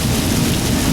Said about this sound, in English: You can hear it. We caught up to the rain.